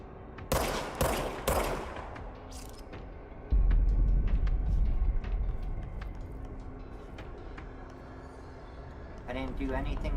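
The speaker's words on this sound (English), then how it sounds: "You have no reason to shoot at me." Bursts of enemy gunfire from the video game Control, with loud rapid volleys early on, then scattered shots and a heavy low rumble beneath someone talking throughout.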